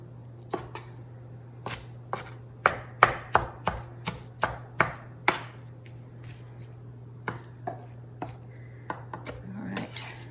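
Knife chopping cooked roasted onions on a cutting board, a run of sharp, close, irregular thuds spaced through the stretch over a steady low hum, with no talking.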